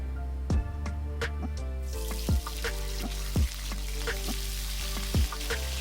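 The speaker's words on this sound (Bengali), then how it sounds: "গোটা জিরে আর লঙ্কা ফোড়ন দেব।" Whole cumin and chillies tempering in hot oil in a kadai sizzle and crackle, the fizz swelling partway through, while sharp metal knocks of a spoon against the pan strike at irregular intervals nearby.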